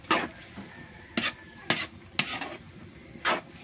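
Bamboo shoots fry in a pan while being stirred, with five quick, crisp scraping strokes spaced irregularly over a soft, steady sizzle, close and fairly quiet.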